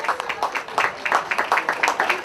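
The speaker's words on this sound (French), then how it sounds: "Je vous demande d'applaudir Fabrice Chaumeau." A crowd applauds race winner Fabrice Chaumeau at the 2019 Cruguel race, a steady patter of many hands clapping, fairly close and continuous.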